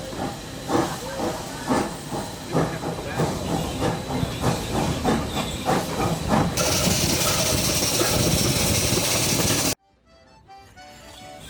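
Vintage steam train on the Glenbrook Vintage Railway through Waikato countryside, rhythmic chuffing and clanking wheels building into a loud sustained hiss of steam, close by, ending in near quiet.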